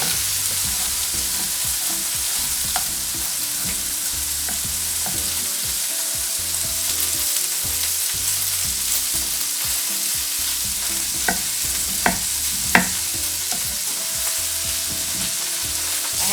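Food browning in a frying pan during a braise of ribs with vegetables, a steady loud sizzle and frying hiss running throughout with a few brief stirring clicks near the end and no talking.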